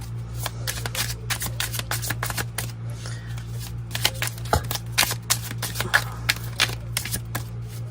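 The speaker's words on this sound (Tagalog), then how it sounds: "barasahin muna po natin itong ating baraha" Close, continuous riffling and flicking of playing cards being shuffled, crisp rapid clicks over a steady low background hum.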